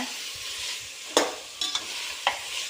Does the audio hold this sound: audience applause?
no